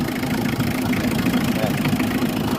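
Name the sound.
Mitsubishi L300 2012 van engine idling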